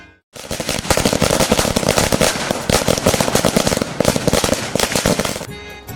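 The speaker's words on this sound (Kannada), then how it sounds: "ಬನ್ನಿ ಪಟಾಕಿ ಹಚ್ಚಿದೆ, ನೋಡೋಣ ಹೆಂಗಿದೆ ಅಂತ." A long string of firecrackers goes off at a Ganesha immersion, a loud, dense, rapid crackle of bursts lasting several seconds before stopping abruptly.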